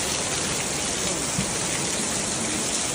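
Heavy rain pours down in a steady, dense roar, loud and continuous throughout with no break or speech.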